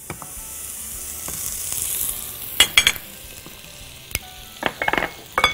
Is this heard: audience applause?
no